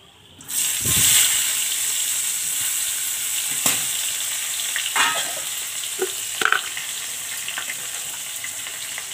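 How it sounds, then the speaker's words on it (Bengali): Chopped onions hit hot oil already holding whole cardamom, cloves, cinnamon and cumin seeds, bursting into a loud, steady sizzle that continues with occasional stirring clatters and pops. "এবং পেঁয়াজটাকে লাল লাল করে একটু ভাজবো।"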